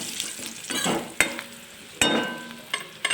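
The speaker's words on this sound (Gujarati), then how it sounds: "હવે આપણે બધું સાતળી લેશું" Whole cloves, a cinnamon piece and a bay leaf stir-frying in hot oil for a wedding-style val bean curry, with a soft continuous sizzle broken by a few sharp clinks of a spoon against the pan.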